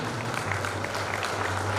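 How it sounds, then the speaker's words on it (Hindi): An audience at a spiritual gathering claps steadily in a brief, moderately dense round of applause with no voices over it. "जोरदार ताली बजाएं, जोरदार कर्तध्वनि करेंगे"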